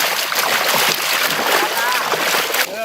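Water is poured steadily for a few seconds, a continuous splashing gush at close range, with people talking over it.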